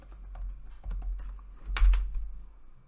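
Someone types on a computer keyboard in a quick run of light close clicks, with one louder clustered tap near the end, over a low hum and no voices.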